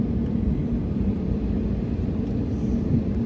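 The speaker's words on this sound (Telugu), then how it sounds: "ఫ్లైట్ అయితే కింద దిగుతుంది రన్వే మీదకి" An airplane touching down on a runway in heavy rain gives a continuous, loud, even rumble with a broad roar of air and water noise throughout, with no pauses or distinct events.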